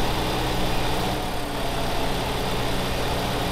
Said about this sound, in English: It's not too hard driving around here in just a tractor with nothing on the back.